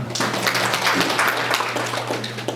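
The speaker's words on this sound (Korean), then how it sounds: "우리 박수 한번 보내줍시다" Applause at a Korean meeting on improving safety certification for children's products, a brief burst of moderately loud clapping from a small group in a room, with a steady hum underneath.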